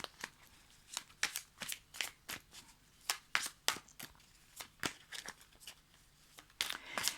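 Oracle cards are handled and shuffled in a quiet room, producing a run of sharp, close papery riffles and snaps that come in irregular bursts.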